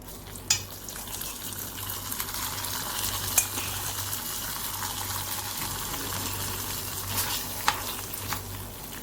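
Fried mustard seed tempering is poured over Thrissur-style cucumber kichadi and sizzles with a soft, steady hiss, with a few faint sharp clicks, and no talking.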